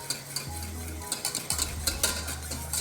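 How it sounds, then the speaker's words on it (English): Brisk whisking of strained stock into traditional gravy in a pot, quick scraping strokes and soft liquid sloshing in a steady rhythm, close and fairly quiet over a low hum. "I'm going to whisk in our strained stock. So do about half. It's quite aggressive as you can hear"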